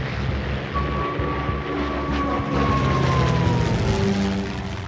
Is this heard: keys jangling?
no